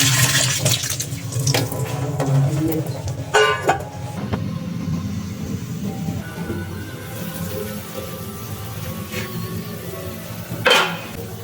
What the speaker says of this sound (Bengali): জলটা ঝরিয়ে নেব।